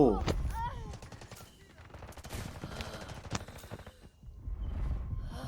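SMG-45 submachine gun bursts in the mobile shooter Delta Force, quick rattling volleys mixed with game effects and a voice speaking, moderately loud throughout.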